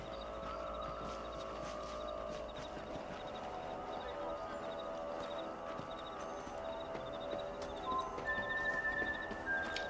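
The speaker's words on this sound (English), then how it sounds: "vamos montar no cavalo" A horse in Red Dead Redemption gallops with steady hoofbeats, moderately quiet and continuous, joined by an occasional snort or whinny over ambient outdoor game sound.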